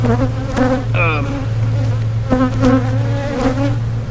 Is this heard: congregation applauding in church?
no